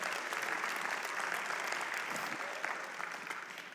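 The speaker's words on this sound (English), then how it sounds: "let's give God a clap of praise" A church congregation claps in praise, a dense, sustained round of applause from many hands that holds steady and fades slightly toward the end, with no speech over it.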